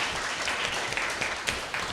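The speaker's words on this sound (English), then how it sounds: "Big clap for them." Applause from a seminar audience for the panellists: dense, steady clapping close by that fills the short moment with no talk over it.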